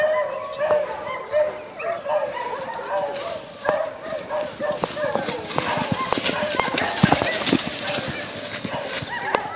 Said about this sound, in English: You're being serenaded by the dogs